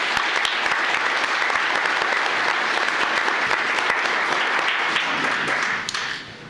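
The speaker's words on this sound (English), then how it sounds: "Let's give them a big round of applause for their efforts." A council chamber audience claps for a county budget department team after a budget presentation award, a loud, dense and sustained round of applause that fades away at the end.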